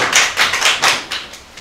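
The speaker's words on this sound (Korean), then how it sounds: "큰 박수로 환영해 주시겠습니다." Scattered clapping from a conference audience welcoming a professor to the stage, a handful of distinct hand claps in an uneven rhythm at moderate volume, with no voices.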